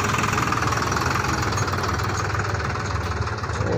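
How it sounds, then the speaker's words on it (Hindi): A tractor engine in a harvested paddy field runs steadily and loudly, with a continuous knocking diesel rumble close by and no speech. "यहाँ पर ट्रैक्टर लेके आ गए ये"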